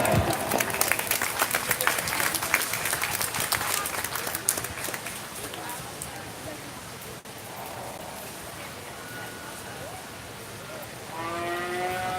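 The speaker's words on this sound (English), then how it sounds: "So make sure to please give this first group of juniors a big round of applause." Applause from a crowd at a county fair 4-H beef showmanship show for a group of junior exhibitors, loud dense clapping that fades out after several seconds into quieter arena ambience.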